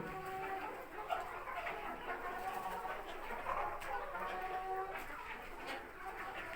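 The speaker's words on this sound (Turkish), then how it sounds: "30 tanesi beyaz ama gerisi sarı tavuk, lohman tavuğu" Lohmann laying hens, about thirty white and the rest yellow, cluck softly and steadily in a poultry shed, a continuous low flock murmur with no talk over it.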